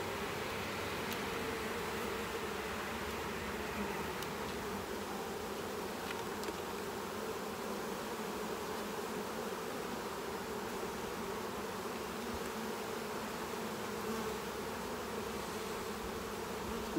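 Honeybees buzzing from an open Saskatraz hive, a steady dense hum close by that holds at an even level the whole time with no talk.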